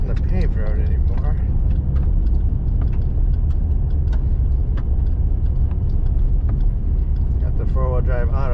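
A four-wheel-drive car grinds uphill on an unpaved forest road in Olympic National Forest, its steady engine rumble and rattling mechanisms close, with occasional creaks and clicks over the drone.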